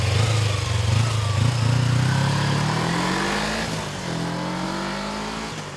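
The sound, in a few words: motorcycle engine running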